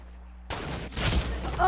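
Sudden burst of video game gunfire kicks in after a quiet start, a dense loud crackle of shots that keeps building, with a voice speaking briefly near the end.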